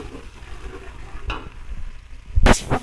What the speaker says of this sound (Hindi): अब प्याज डालेंगे, और प्याज को 2 से 3 मिनट तक पकाएंगे अच्छे से